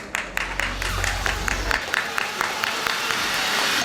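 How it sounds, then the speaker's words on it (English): Steady clapping from an audience, a run of sharp claps blending into a continuous wash, fairly loud and close, with a low hum early on. "Let's give the gentleman a big round of applause."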